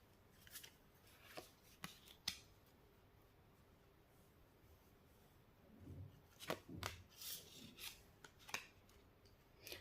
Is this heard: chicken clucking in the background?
no